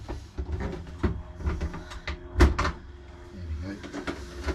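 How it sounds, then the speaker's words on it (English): A washing machine door is refitted aboard a narrowboat, making a run of close clunks, taps and knocks with one sharp heavier bang near the middle. "I've just got to put the door back on."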